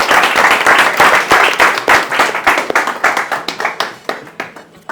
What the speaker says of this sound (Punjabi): ਜ਼ੋਰਦਾਰ ਤਾੜੀਆਂ ਕੁੜੀ ਲਈ ਲਾ ਦੋ